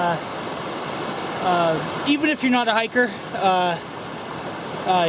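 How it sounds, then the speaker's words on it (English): A gorgeous brook runs beside a mountain hiking trail, its steady broadband rush of flowing water filling the background while someone talks over it. "this first part of this trail runs along this gorgeous brook here"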